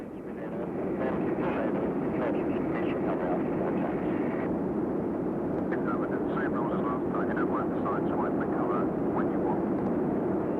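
An RAF Jaguar jet flies low, giving a loud, continuous roar that holds steady for about ten seconds without fading, with faint whistling tones riding over the engine noise.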